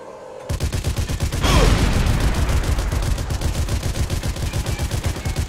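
Rapid automatic gunfire from a mounted gun in the video game Sniper Elite 3, a loud steady burst of closely spaced shots running almost without pause, with a heavier blast partway through.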